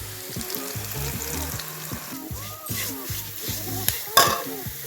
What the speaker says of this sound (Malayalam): മല്ലിപ്പൊടി മൂന്ന് സ്പൂൺ മുളക് പൊടി നാല് സ്പൂൺ മഞ്ഞൾപ്പൊടി ഒരു സ്പൂൺ ചേർത്ത് നല്ലവണ്ണം മൂപ്പിച്ചെടുക്കണം